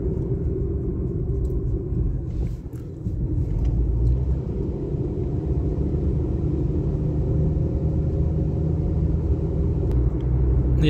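A car drives along the Kalba Corniche coastal road in the UAE, a steady close engine and tyre rumble that holds for the whole stretch with no talk over it.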